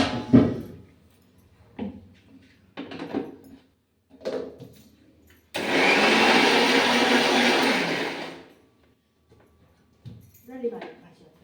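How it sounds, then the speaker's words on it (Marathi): A mixer grinder blends spinach with a little gram flour in one loud, steady whirring burst of about three seconds, with home-kitchen talk before and after it. "आपल्याला मिक्सरमधून आपल्याला फिरून घ्यायचं."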